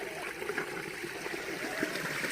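Irrigation water runs along a farm channel on a natural-farming plot, a steady, continuous trickling and gurgling rush that stays even throughout with no voices.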